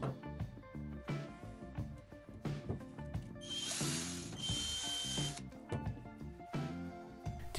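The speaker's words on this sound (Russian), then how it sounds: "снова зажимаем в тиски и сверлим отверстие на 2 мм." A power drill bores a 2 mm hole in a gas canister held in a vise, its motor whining in several short bursts with a sustained hissing stretch in the middle.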